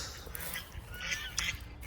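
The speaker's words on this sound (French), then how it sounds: "j'ai mis mon couple de canards semois" Domestic ducks of the Semois breed quack softly in a breeding pen, with a few short, faint, nasal calls in a quiet outdoor setting.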